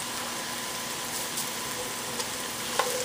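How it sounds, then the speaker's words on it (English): Mushrooms and spring onions sautéing over high heat, a continuous close sizzle with a few faint clinks and scrapes of a utensil, no talking. "So I'm just gonna put the mushrooms in there, and we're just gonna saute this all on high heat."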